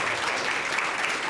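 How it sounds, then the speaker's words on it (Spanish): A congregation applauds to welcome a guest named Selma at a church service, a dense, steady wash of many hands clapping at an even level throughout, with no voices rising above it. "le vamos a dar un aplauso"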